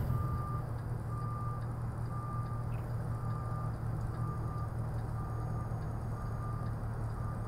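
A truck backing a trailer sounds its reversing alarm in evenly spaced beeps over a constant low diesel engine rumble from inside the cab.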